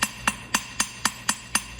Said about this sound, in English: You can hear the gentle little taps, and I'm literally, I'm shaping my metal.